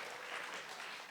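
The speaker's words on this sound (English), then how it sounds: "Give yourself a round of applause." A brief, dense burst of audience applause fills a lecture hall, steady and unbroken with no voices over it.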